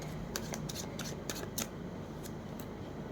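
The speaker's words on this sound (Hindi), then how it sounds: "मैं इनको शफल करे जा रही हूँ" Tarot cards being shuffled by hand, a soft steady riffle with several brief crisp flicks and snaps spread across a few seconds, close and fairly quiet.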